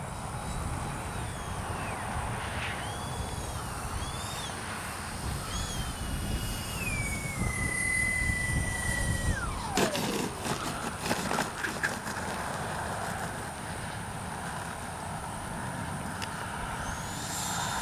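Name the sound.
X-FLY J-65 RC jet airplane flying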